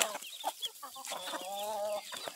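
Backyard chickens, a hen with young pullets and cockerels, clucking and giving soft drawn-out calls close by, with light rustling in the background.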